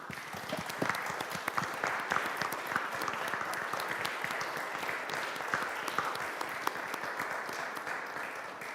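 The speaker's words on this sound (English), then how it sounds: "And let's make a round of applause for that." An audience at a forum on trust and integrity in democracy in Caux, Switzerland applauds in tribute to Ukrainian women, producing a dense, steady wash of many hands clapping that continues evenly for several seconds.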